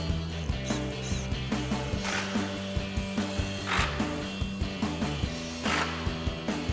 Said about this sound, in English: Now we can tighten up all of our bolts with our 10mm socket and our impact.